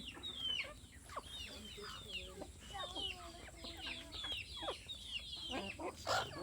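Chickens and ducks cluck and chatter steadily at close range while eating paddy, with scattered higher bird calls, while a voice speaks briefly in the background.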